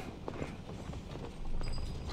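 Horse hooves clip-clop at a steady pace during a mounted chase in Call of Duty: Mobile, a soft rhythmic patter sitting under a dense game soundscape.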